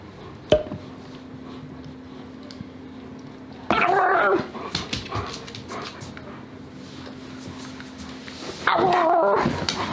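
A German Shepherd whimpers and yips in a few short, fairly loud bursts near the start, middle and end, with a steady faint whine between them and no talking.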